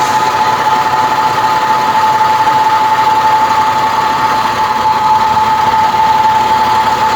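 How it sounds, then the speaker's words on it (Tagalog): A steady bus engine idles nearby with a constant drone and a faint high whine running throughout, no pauses or voices. "Yung tunog ng sasakyan ng bus."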